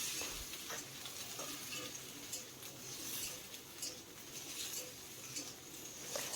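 Okra frying in hot mustard oil while being stirred: a soft, steady sizzle threaded with small crackles and occasional scraping stirs, fairly quiet and close, with no talking.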